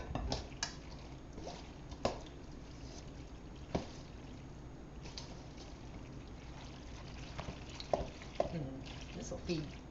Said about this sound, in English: you just mix it. Mix it really good. Toss it around.